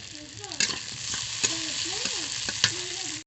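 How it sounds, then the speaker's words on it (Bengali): Potato and brinjal frying together in a pan: a steady, bright sizzle throughout, with a few sharp stirring clatters and a faint wavering tone in the background. "আলু বেগুন একসঙ্গে ভেজে নেব।"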